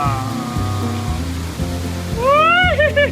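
A waterfall gives a steady, loud rush of falling water close by, with a voice rising over it toward the end.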